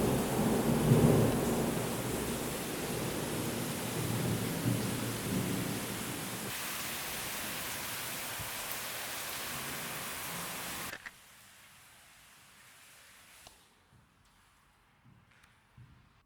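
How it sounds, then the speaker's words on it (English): Heavy rain pours down in a dense roar mixed with thunder rumbles, loud at first, then easing and dropping away to faint drips near the end. "it also started raining really hard, so the window frames got really wet."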